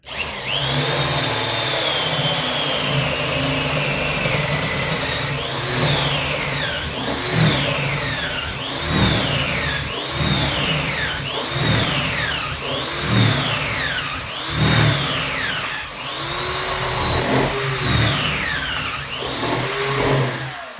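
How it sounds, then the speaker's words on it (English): A Parkside PNS 300 B3 two-speed drill screwdriver whines loudly and continuously, its motor pitch rising and falling in repeated arcs as it bites and eases off, close and alone without talk. "And you can drill again."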